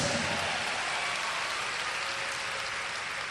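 Church congregation applauding during a prayer and revival service, a steady dense wash of clapping that stays loud and even throughout.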